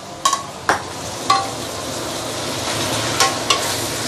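Rice noodles stir-fried in a wok for char kuay teow: a soft, steady sizzle broken by a handful of sharp spatula clacks and scrapes against the pan.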